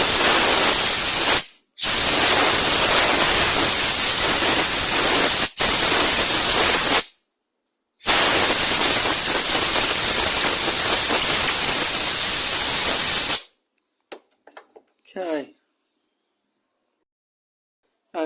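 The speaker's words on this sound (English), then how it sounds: "we're going to take the air and we're going to blow it all out." Compressed air blasts through the carburetor of a line trimmer that has sat unused for a long time, a loud close hissing roar in three long bursts with brief gaps, then a few short puffs.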